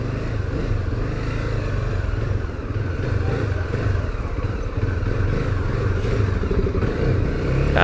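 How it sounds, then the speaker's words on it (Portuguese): Motorcycle engine nearly stalling while riding through city traffic in Barueri, a close, loud, rough idle that sags and falters with clattering mechanical noise throughout. "a moto quase morreu"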